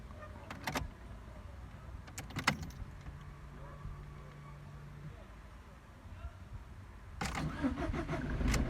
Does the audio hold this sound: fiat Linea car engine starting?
yes